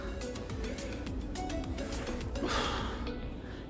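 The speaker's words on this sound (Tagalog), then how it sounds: "Hinihingal ako ah." Heavy, steady panting from a hiker climbing Bokdu Mountain in cold weather, close and continuous, with breath noise and outdoor rustle throughout and no talk.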